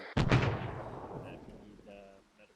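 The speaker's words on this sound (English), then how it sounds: "Frag out." A frag grenade detonates in ArmA 3 with one sharp, loud blast that rolls off into a long fading rumble, followed by brief radio-style voices talking faintly afterward.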